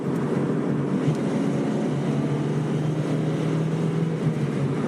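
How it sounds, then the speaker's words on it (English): A small inline-four engine in a Toyota MR2 Spyder drones steadily and loudly throughout, a constant buzzing hum with no clear rise or fall in pitch. "you'll never mistake that primal scream coming from that little inline four-banger right here"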